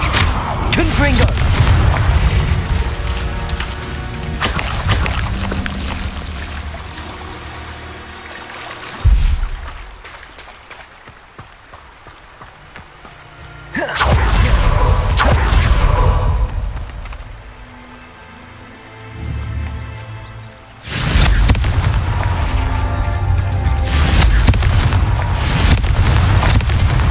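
Confringo fire spell blasts from the Hogwarts Legacy video game boom in repeated heavy bursts, each explosion followed by a rumbling decay, separated by quieter gaps with game sounds.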